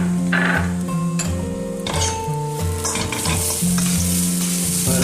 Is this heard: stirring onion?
yes